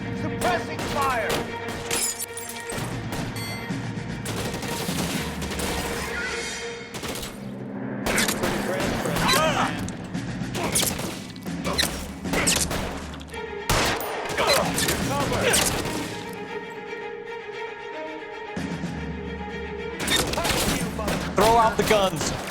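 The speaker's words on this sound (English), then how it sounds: "Suppressing fire." Sustained suppressing gunfire in the video game L.A. Noire, with dense, overlapping bursts of shots and shattering impacts throughout a long firefight, loud and close, with shouted voices in between.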